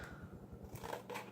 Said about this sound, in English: just eyeball this and cut off the brown edges